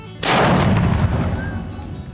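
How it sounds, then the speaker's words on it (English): A single loud cannon blast from a boat booms suddenly and then rumbles and echoes away over a couple of seconds; no voices. "Who wants him to shoot the cannon?"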